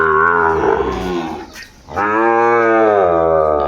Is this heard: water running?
no